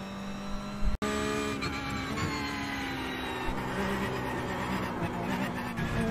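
A TCR touring race car in iRacing drones steadily with a sustained engine tone, a sharp click near the start, then continuous mid-level engine noise with faint tire scrub.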